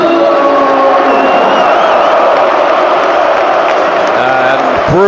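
Football crowd at St James's Park, Newcastle, in a Premier League match against Burnley, roaring and cheering after a goal, a loud sustained wall of voices with whoops throughout.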